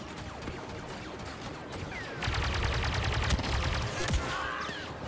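Gunfire in the video game Star Wars Battlefront II, with a dense burst of rapid shots that gets louder partway through and a sharp crack near the end, heard without talk.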